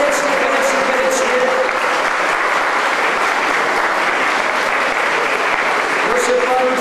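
Outdoor crowd on a walking pilgrimage to Jasna Góra applauding a welcomed guest, sustained even clapping lasting several seconds, with a voice briefly heard at the start and end.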